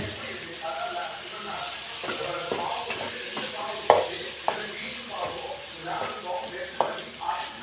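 Green chilli chicken fries in hot oil with a steady, close sizzle, punctuated by occasional sharp clinks and scrapes of stirring.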